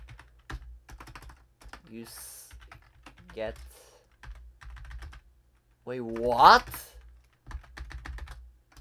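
Typing on an English computer keyboard runs in steady bursts of close key clicks through most of the stretch, with someone speaking briefly over the keystrokes.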